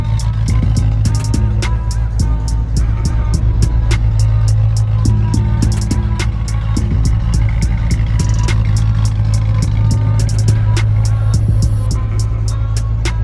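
A classic car engine idles with a steady, throbbing low rumble. It is loud and constant throughout, with repeated faint ticking clicks above it and no speech.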